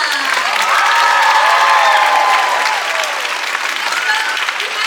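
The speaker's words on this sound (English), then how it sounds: "Let's give one more round of applause for Teresa." Sustained audience applause at a house film festival screening, a dense steady wash of many hands clapping with scattered cheers and voices mixed in, loud and continuous before easing slightly toward the end.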